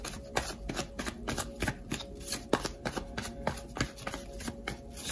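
Tarot cards being shuffled for a reading, a close rapid series of riffling slaps and soft flutters in an uneven rhythm, with no talk.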